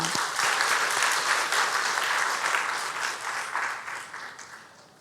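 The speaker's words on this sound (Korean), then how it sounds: "박수하겠습니다." A congregation applauds together during a Korean Sunday worship service, steady dense clapping filling the sanctuary before gradually tapering off.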